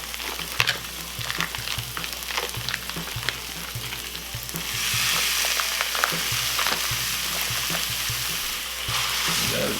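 Dry aged ground beef sizzles and crackles steadily in a hot pan, with occasional stirring scrapes and a fuller hiss building partway through.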